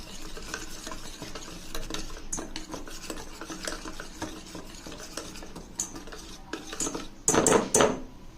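Curd and gram flour batter whisked in a bowl, a steady quick scraping and stirring with utensil clinks against the bowl, and a louder clattering burst near the end.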